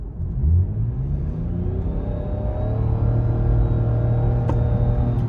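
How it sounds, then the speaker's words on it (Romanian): Lexus RX450h F-Sport hybrid SUV under kickdown acceleration: a low engine drone builds into a steadily rising whine as revs climb, loud and continuous from inside the cabin, with no talk. "hai să o lăsăm pe eco și să-i dăm un kickdown"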